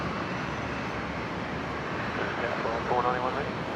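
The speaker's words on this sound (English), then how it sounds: "we're about to lose sight there of Qantas 934 pulling into the domestic terminal" Steady, broad aircraft engine rumble from a Qantas airliner taxiing toward the domestic terminal at Brisbane airport, continuous and fairly distant, with a slight swell near the end.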